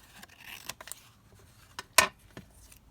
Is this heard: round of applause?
no